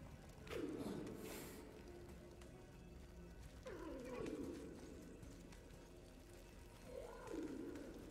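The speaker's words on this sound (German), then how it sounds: "Ich hab doch da einen Vogel gehört." A bird coos three times in God of War, each soft, descending call spaced a few seconds apart, faint and somewhat distant over a low ambient background.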